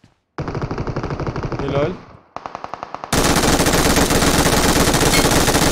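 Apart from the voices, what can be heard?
gunfire in the video game PUBG Mobile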